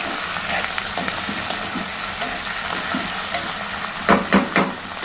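Tomato pieces fry in a pan with curry leaves for a cassava and flat-bean curry, giving a steady close sizzle with light stirring clicks and a few louder scrapes near the end.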